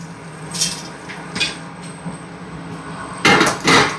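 Several sharp clattering bursts as fried jackfruit chips drop into a metal vessel, a few spaced apart and then two louder rattling clusters at the end, over a faint hiss.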